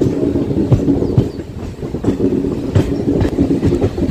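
Two trains pull into Yeshwanthpur Junction side by side, loud and close, with rhythmic clickety-clack of wheels over rail joints and a rumbling engine beneath.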